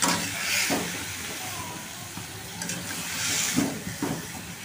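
Ingredients sizzling in hot oil in a pan as they fry, a soft, steady hiss with faint clatters and low background rumble, quiet and continuous.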